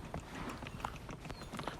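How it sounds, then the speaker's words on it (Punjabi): A Marwari mare walks with a soft, steady clip-clop of hooves, faint and somewhat distant, the hoofbeats coming in an even gait over a low background. "ਹੁਣ ਤੁਸੀਂ ਚਾਲ ਦੇਖ ਰਹੇ ਹੋ ਘੋੜੀ ਦੀ"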